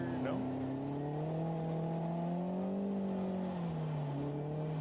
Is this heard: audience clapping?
no